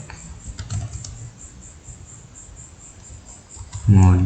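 Commands are typed on a computer keyboard, with light, close key clicks in short bursts over a steady insect-like chirring background; a voice begins speaking at the end.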